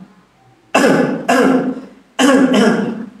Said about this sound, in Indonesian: Batuk-batuk ya.